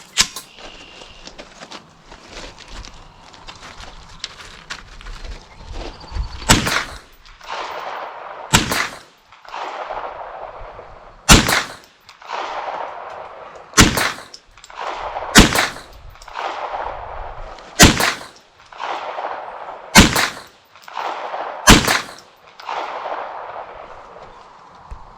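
Nine sharp 9mm pistol shots ring out at uneven intervals of about two seconds, each a loud, close crack over a low background.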